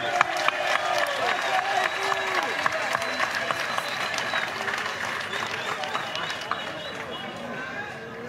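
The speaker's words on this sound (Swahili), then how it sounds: "Tuwapigie makofi mengi." Audience at a Yanga welcome reception at Dar es Salaam airport applauding steadily, a dense wash of clapping and crowd noise that holds loud and constant throughout with scattered shouts.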